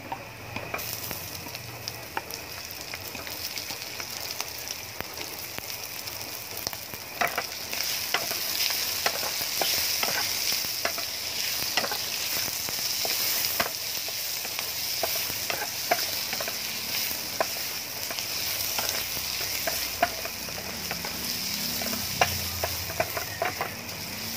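Mussels sautéing in a pan for spicy adobo, a steady close sizzle and crackle running the whole time with occasional scrapes and clinks of stirring, no talking.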